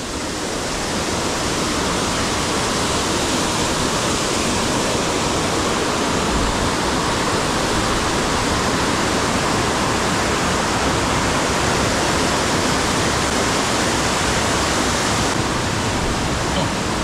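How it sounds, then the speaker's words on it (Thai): Roaring waterfall at a natural falls site in Thailand, a dense, steady rush of falling water that stays loud and unbroken throughout. "ได้บรรยากาศน้ำตกจริงๆทุกคน"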